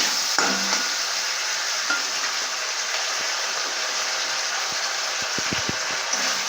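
Spices sizzle and fry in a hot pan while being stirred for a fish-head chechra, a steady frying hiss running throughout with a few soft scraping stir sounds near the end.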